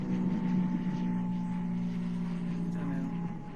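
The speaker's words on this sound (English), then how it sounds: "There's an airplane somewhere. Where is it?" A low, steady engine drone of an airplane flying overhead hangs in the air, with faint voices and outdoor noise underneath.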